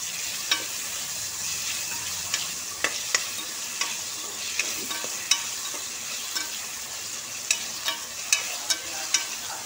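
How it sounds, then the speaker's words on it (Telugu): Ivy gourd (dondakaya) pieces fry in a pan under a steady bright sizzle, while a spatula stirs them in frequent short scraping clicks, close and clear, with no voices. "దొండకాయ ముక్కలు కూడా కొంచెం వేగితే"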